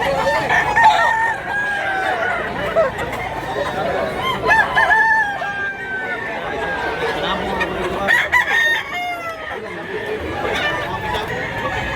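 Many chickens and roosters at a poultry market in Mantalungon, Cebu, crow and cluck repeatedly, close and loud, under busy human chatter.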